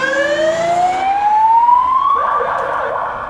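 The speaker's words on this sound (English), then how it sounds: "Wow, that's a weird siren." A Montreal police car siren sounds nearby, loud and clear, with one long rising wail followed by a harsher burst as the tone changes, and no talking over it.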